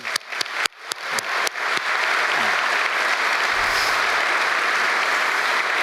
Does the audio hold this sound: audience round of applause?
yes